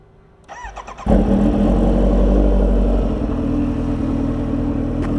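A Kawasaki H2R motorcycle running on 101 race fuel fires up loudly after a few quiet clicks, settling into a heavy, close, sustained engine roar with slight revving.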